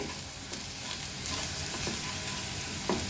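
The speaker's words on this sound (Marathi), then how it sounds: "हळद आणि मसाला तेलावर छान परतून घेऊया" Turmeric and Agri Koli masala sauté in oil over a medium flame for a dry baby shrimp chutney, giving a steady close sizzle with a few scraping stirs, no voices.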